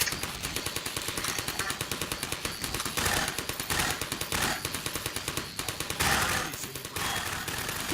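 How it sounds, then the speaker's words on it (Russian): Automatic machine gun fire in the video game Half-Life 2 Episode 2, heard as rapid sustained bursts of regular repeated shots with brief pauses between volleys, loud and close, with no talk. "Пулемет хорошо справляется вообще."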